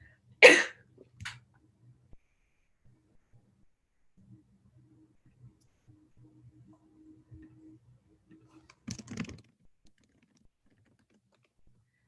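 A single sharp cough up close, followed by a quieter second cough, then near silence with faint hum before a short burst of rustling near the end.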